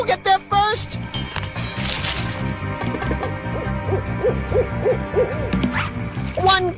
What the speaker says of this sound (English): That owl's waiting up too!